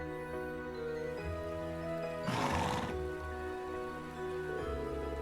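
A horse in the video game Trails of Cold Steel 2 gives one loud whinny in the middle, set over soft game music with faint hoof clopping.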